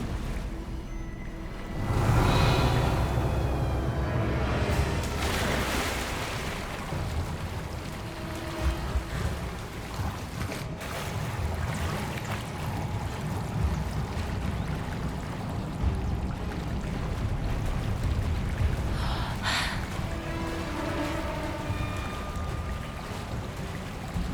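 Water bubbling and churning in the fantasy video game Hogwarts Legacy, a steady rushing, frothy wash that runs throughout at moderate loudness, without speech.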